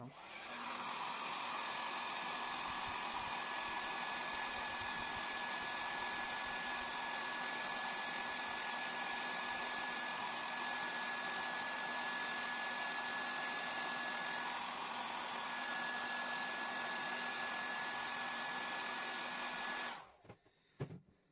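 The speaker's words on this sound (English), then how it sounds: "I will use the hairdryer so that it will start to take this type of shape" A hair dryer blows continuously at close range with a loud, steady whooshing whine, heating a carbon decal on a Lexus LFA model, then switches off abruptly near the end.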